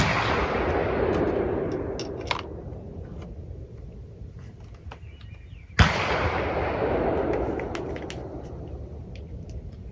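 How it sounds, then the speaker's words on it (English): Rifle fire using 60-grain Hornady AMAX polymer-tipped ammunition, heard as two sharp loud reports several seconds apart, each followed by a long decaying echo rolling across open ground. "So first, we're going to shoot a 0 group. 3 shots."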